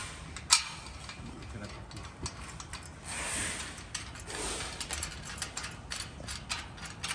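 A ratchet tightens the mount nut of an OCAM roof rack on a 2007-onward Mitsubishi Pajero NS-NX, giving quiet, irregular clicking bursts close by with no talk over them.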